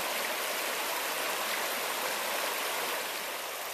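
Steady rushing water at a creek crossing on Laurel Fork in Big South Fork, a constant broadband flow close by with no voices.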